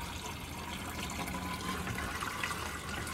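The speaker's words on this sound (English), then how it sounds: "let it quickly fill up this tank" Water runs steadily into an empty 1-gallon plastic pump sprayer tank, a continuous close rushing and splashing fill with no talking.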